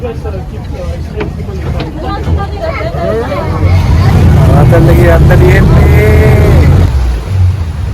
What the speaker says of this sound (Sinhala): දැන් බෝට්ටුව රිවර්ස් කරනවා